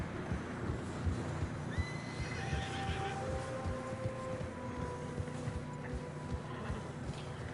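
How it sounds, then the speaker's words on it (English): Horses struggle through deep fresh snow in the Red Dead Redemption 2 video game, whinnying and neighing with drawn-out calls over a steady trudge of hooves and wind, moderately loud and without talk. "Horses struggling."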